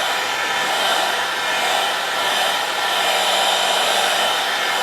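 A hot air gun blows steadily over a sheet of Worbla thermoplastic, giving a loud, continuous whooshing roar that holds nearly constant for the whole stretch with no talk.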